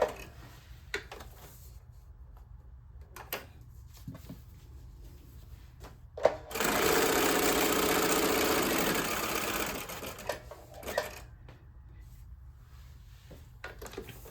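A sewing machine runs in one continuous burst of whirring stitching through scrap paper for a few seconds, framed by quiet handling clicks and rustles before and after.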